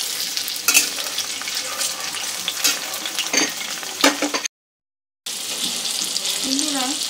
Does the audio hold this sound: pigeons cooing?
no